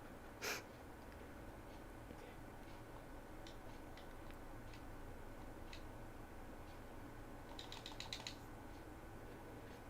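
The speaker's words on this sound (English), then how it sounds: "I'm not sure if you can hear my sporadic clicking of buttons on my controller down between my legs" Sporadic plastic button clicks from a handheld game controller during a Game Boy Advance card game, faint and close, with a few isolated taps and a quick cluster of clicks near the end.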